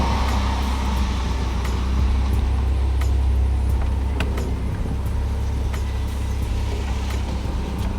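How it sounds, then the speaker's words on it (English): Road traffic noise with cars passing near a driveway, a steady loud engine and tire rumble throughout with a few brief brighter passes, no talking. "Of course there's cars coming."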